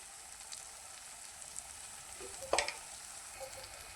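Masala frying in a pan with salt and turmeric added for a makhana curry: a soft, steady sizzle throughout, with one brief sharper clatter partway through.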